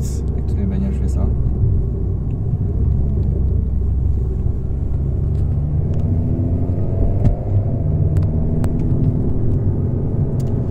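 An Alpine car's turbocharged engine drones steadily from inside the cabin while driving, a loud continuous rumble with road noise, as people talk over it throughout.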